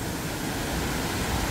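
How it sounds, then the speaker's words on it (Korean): The Hongryongsa temple valley stream in Yangsan, Korea, swollen after heavy rain, rushes in a loud, constant roar of water close by with no voices. "폭포로 이어지는 곳인지 모르겠는데 거의 여기도 폭포예요."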